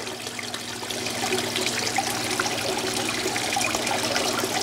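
Water trickles steadily past a rock, moss and aquarium gravel in a small indoor water feature, a continuous close bubbling flow with a faint low hum underneath.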